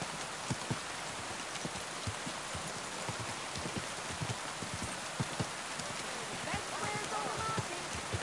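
Horse hooves clip-clop steadily in Kingdom Come Deliverance 2, a run of evenly spaced soft thuds over a constant rain-like hiss, with occasional sharper strikes and no talk.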